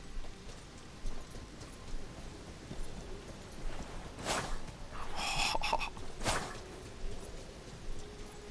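Hooves clop in a steady trotting rhythm from a half goat, half horse creature in Elden Ring, moderately loud against a continuous ambient game backdrop with a couple of sharper thuds.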